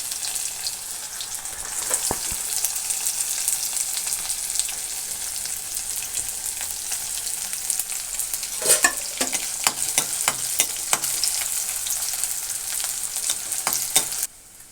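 Onions and dried red chilies frying in a pan for okra curry, a steady close sizzle with scattered sharp pops and stirring clatters, no talking.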